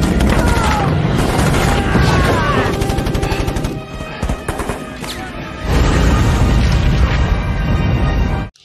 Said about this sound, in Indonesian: tembakan-tembakan meriam dari kapal Amerika menghujani para pasukan Jepang dengan tepat